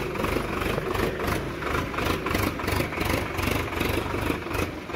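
A farm tractor engine chugs steadily as it pulls a trolley loaded with manure along a road, its rhythmic pulsing throb continuous and fairly close, with no talking.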